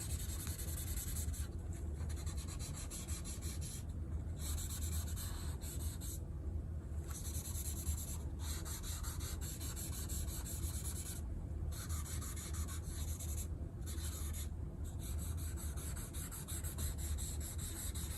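Pencil strokes rubbed and softened on paper for shading, a steady close scratchy rubbing that runs continuously with brief pauses between passes.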